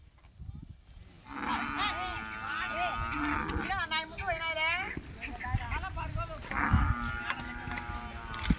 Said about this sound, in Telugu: చూడండి చాలా పెద్ద బర్రెలు ఉన్నాయండి ఇక్కడ.